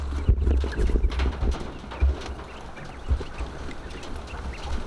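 Quail moving inside a wooden hutch, with soft low thumps and scattered faint bird sounds against steady background noise, no talking.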